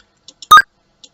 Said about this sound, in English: So a pickup or a coin sounds,